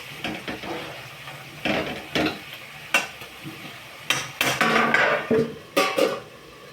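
Cowpea leaf greens cook in a pan while being stirred, giving repeated scraping and clattering strokes in an uneven rhythm over a soft sizzle, close and fairly loud.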